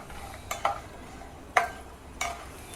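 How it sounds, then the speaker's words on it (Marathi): Walnuts frying in ghee for methi laddu make a low, soft sizzle, with three distinct clinks and scrapes of a spoon against the pan. "अक्रोडी मी आता पन्नास ग्रॅम घेतलेले आहे ते सुद्धा आपण तुपामध्ये तळून घ्यायचे आहेत"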